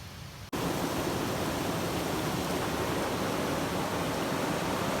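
A wilderness waterfall rushes in a steady, dense roar that cuts in abruptly after a brief quieter moment and then holds constant and close for the rest of the stretch.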